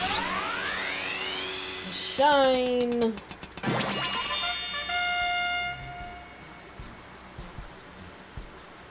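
A sparkling crafting effect from Final Fantasy XIV rings out with rising chimes, a falling synthetic sweep and bright metallic hammer strikes, then a long shimmering tone that fades, with a voice calling out partway through.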